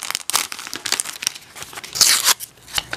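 Sheets of fairy tale landscape stickers and their plastic packaging are handled up close, producing sharp crinkling and crackling bursts with a louder rustle near the end.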